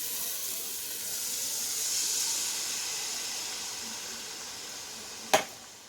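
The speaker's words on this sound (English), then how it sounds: "I'm going to go ahead and add in my crushed tomatoes, 2 cans of those" Steady hiss and soft sizzle of a marinara sauce cooking, with a sharp clunk near the end as two cans of crushed tomatoes go in; close and moderately quiet throughout.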